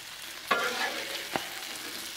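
Meat and vegetables sizzle on a Blackstone griddle for cheesesteak sliders, a soft steady frying hiss broken by two sharp spatula scrapes, with no talking.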